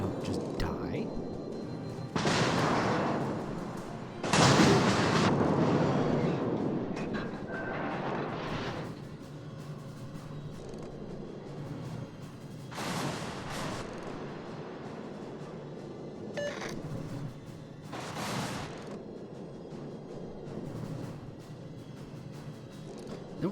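Heavy naval guns from a New Mexico battleship boom in World of Warships: a few broad, rumbling salvos spaced several seconds apart, loud against steady engine and sea ambience, with someone talking throughout.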